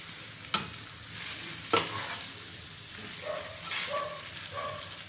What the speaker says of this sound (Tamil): இப்போ பரோட்டா திருப்பி போட்டுக்கலாம். இந்த சைடில் இருக்க எண்ணெயெல்லாம் இதுக்குள்ளே சேர்த்து விடுவோம்.